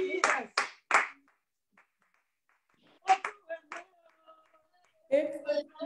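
Members of a church congregation clap at a Bible study service, a few sharp claps at the start, then singing and call-and-response voices before another burst near the end.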